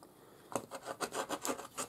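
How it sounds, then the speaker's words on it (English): Rotary cutter slicing through towel fabric, a series of about eight quiet rasping strokes in a steady rhythm, close by and alone. "use my trusty uh, rotary cutter"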